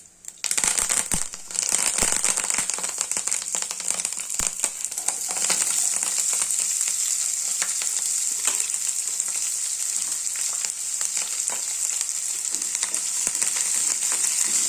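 Cumin, mustard seeds and curry leaves sizzle in hot oil for an Uttara Karnataka dill-leaf palya, a loud steady crackling fry with scattered sharp pops and a few clinks near the start, continuing without voices.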